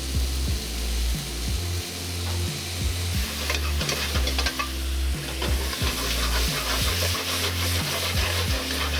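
Sweet corn stirred into a sizzling salsa mix with garlic in a frying pan, a steady close sizzle under rhythmic scraping strokes of a utensil repeating about every second, with no talking.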